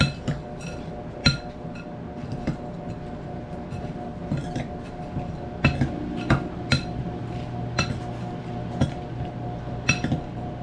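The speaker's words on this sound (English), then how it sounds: "so you stir it together with the seasoning" Clinks and scrapes of a utensil against a bowl while foil-packet camping food is stirred with seasoning, in irregular light taps over a steady low background hum, fairly close.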